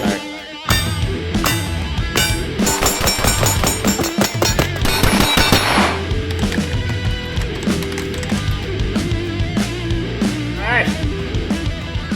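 A Staccato XC pistol fires in a quick string of sharp, loud shots during shooting drills, the bursts clustered in the first half. Rhythmic music plays throughout and continues after the shooting stops.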